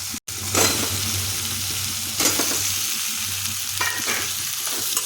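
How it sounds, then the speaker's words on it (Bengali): Boiled, drained potatoes are sautéed in spiced oil in a pan, giving a steady close sizzle with stirring scrapes and a few louder bursts of hissing; no one speaks. "এখন আলুটা খুব ভালোভাবে কষতে হবে।"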